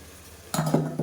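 Rice-soaking water poured into a pot of mutton biryani, with a short sloshing pour and a couple of clinks of metal cookware, close and fairly loud, no voices.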